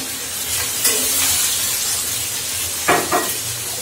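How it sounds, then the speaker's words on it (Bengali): A little water splashes into ginger-garlic spice paste frying in a pan for fish-head chana dal, giving a soft steady sizzle with two brief louder bursts of spattering hiss. "মশলাটা ভাজা হয়ে গেছে, আমি একটু সামান্য পানি দিয়ে দিচ্ছি যেন মশলাটা পুড়ে না যায়"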